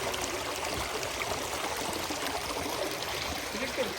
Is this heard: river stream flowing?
yes